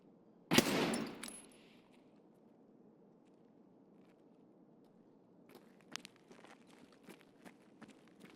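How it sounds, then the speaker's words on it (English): One sharp, loud gunshot rings out early in a first-person shooter video game and fades, followed by quieter footsteps and faint distant clicks. "I heard a shot back here."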